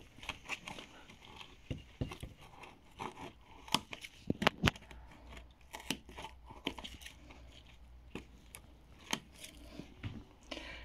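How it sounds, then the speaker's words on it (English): Scissors snip the lower leaves off a dahlia cutting, sharp irregular clicks and snips with leaf rustling between them, close and fairly quiet. "I'm going to use scissors, you can use a pen knife."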